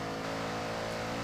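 A Datsun 240Z accelerating in the racing game Forza Horizon 6, its engine note a steady, droning hum that holds at a constant pitch, with no talking.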